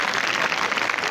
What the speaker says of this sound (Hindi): बहुत ज़ोरदार तालियां बजा लो अपने लिए।